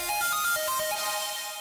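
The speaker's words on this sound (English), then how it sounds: "this is one of the synths that's playing the main melodies" Heavily distorted synth lead playing a main melody line through a stereo shaper and reverb, a short bright buzzy phrase of a few quick notes, alone.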